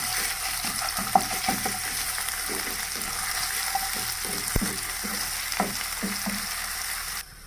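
Garlic ginger paste frying with browned onions in a pan, sizzling steadily and loudly up close, with occasional scrapes and clinks of stirring.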